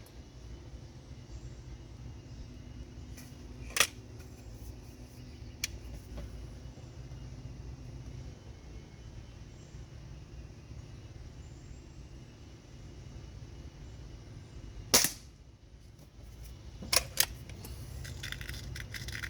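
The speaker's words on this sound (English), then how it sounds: "pellets sound like they're hitting pretty good down there" Pellets from a Diana 240 air rifle strike a target 10 meters away: a few sharp, faint clicks and taps, spaced apart with one close pair, set against a low, steady background hum.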